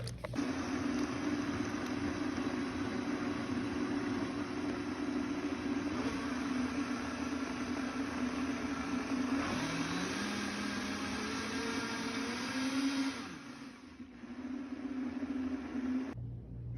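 A blender crushes ice and water for a boba smoothie with a steady, loud, droning motor whir and grinding churn that runs on, dips briefly, then resumes.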